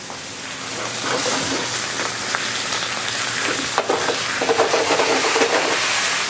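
Potatoes browning in a hot pan give off a steady, close sizzle and hiss with a few scraping touches, continuing evenly throughout.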